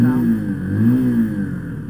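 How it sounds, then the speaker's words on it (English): A motorbike engine idles close up with a low steady rumble, then rises in a slow, gentle rev and eases back down, purring continuously with no voices over it. "If I do a slow rev rather than a big rev. There we go, there's her purr."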